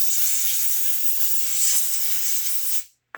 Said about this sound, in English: just run it through a little bit and then blow it out with your compressed air